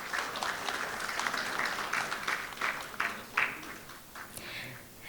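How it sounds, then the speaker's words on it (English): Warm round of applause from a conference audience welcoming the chief guest at an inaugural program, steady dense clapping from many hands that tapers off toward the end, with no speech. "let's welcome our chief guest with a warm round of applause"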